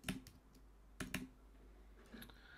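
A few sparse, faint clicks of a computer keyboard being typed on come in small clusters, with quiet room tone between the keystrokes.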